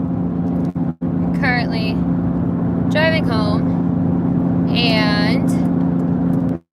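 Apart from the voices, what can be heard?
car driving home, interior road noise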